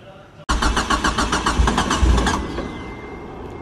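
A freshly tuned car engine cranking over with rapid, rhythmic starter pulses for about two seconds before catching and settling into a rough idle, loud and close.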